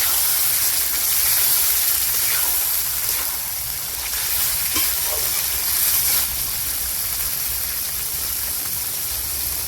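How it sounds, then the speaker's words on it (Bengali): Chicken mince frying in a wok over browned onion and garlic, a steady loud broadband sizzle and hiss lasting throughout with occasional stirring scrapes, no talking. "এবার চিকেন কিমাটা দিয়ে দেবো"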